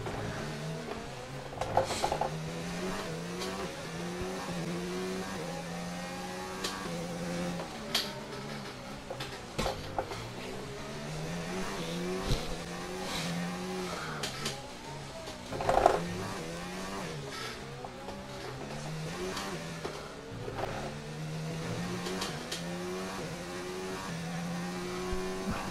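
An F1 2019 race car in a practice lap at the Azerbaijan circuit screams through repeated high revving climbs and sharp gear shifts, loud and close, with occasional tire squeal and no talk.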